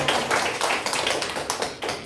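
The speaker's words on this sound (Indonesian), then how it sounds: "Coba lebih meriah lagi tepuk tangannya." Audience applause at a Catholic parish recollection session, a dense run of hand clapping that fills the room steadily and fairly loud for about two seconds with no talk over it.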